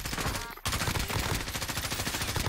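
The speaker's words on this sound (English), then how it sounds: "Those snipers are still shooting at us from the northwest." Sniper fire in Call of Duty Warzone crackles in loud, rapid bursts of shots, with one brief pause before the shooting resumes at a close, dense pace.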